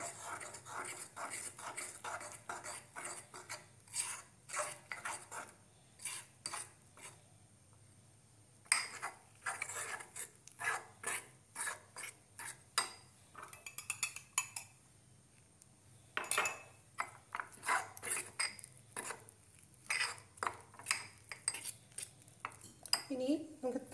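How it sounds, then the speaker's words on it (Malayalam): Eggless mug cake batter being mixed with a spoon in a mug, heard as rapid, repeated clinking and scraping in bursts with brief pauses, close but soft, over a low background hum. "നന്നായി മിക്സ് ചെയ്ത് കൊടുക്കുക."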